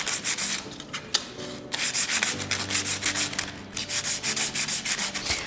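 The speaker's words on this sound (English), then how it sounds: "I'm gonna take my sandpaper and I'm just gonna really clean the surface" Sandpaper scrubs a metal jewelry surface clean before soldering a bezel, a loud close rasping in quick repeated back-and-forth strokes, steady and rhythmic with brief pauses.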